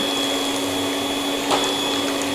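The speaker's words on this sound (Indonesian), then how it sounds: "Ini sambil kita mixer ya. Soalnya biar nggak gumpal dia tepungnya." An electric mixer beats flour batter to keep it from clumping, giving a steady, loud, close motor whine with a constant pitch. It runs throughout without pause or talking.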